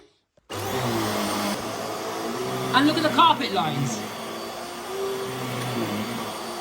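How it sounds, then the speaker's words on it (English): Vax Air Stretch Pet Max vacuum cleaner running steadily on stiff-pile carpet, a continuous motor drone that starts abruptly and swells briefly as it is pushed, with someone talking over it. "I think this is officially my brand new daily hoover."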